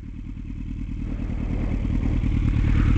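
Motorcycle engine droning steadily while riding at night, a close, loud, pulsing rumble that builds gradually with rising revs and wind noise throughout.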